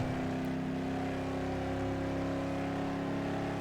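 A car engine in the Ford Racing 2 video game holds a steady high drone in fifth gear at high speed, loud and constant throughout with no talk over it.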